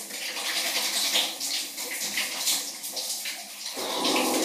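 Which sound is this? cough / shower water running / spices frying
shower water running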